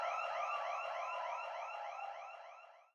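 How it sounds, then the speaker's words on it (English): An electronic security alarm wails in fast, repeating rising sweeps, loud and alone for about three seconds before cutting off abruptly. "leaving Milton sleeping peacefully amidst the security alarm and oncoming police sirens"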